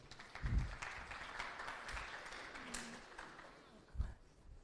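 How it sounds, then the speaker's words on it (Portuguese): Brief applause for a student in a calculus class, light scattered clapping from a small group, fairly faint and short, with room noise and low voices around it. "Palmas para nossa colega aí, por favor."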